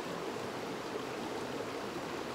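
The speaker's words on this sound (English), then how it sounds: "you can take in the sound of this water" Water flows steadily in a continuous soft rush, even and unbroken like a stream, with no voices over it.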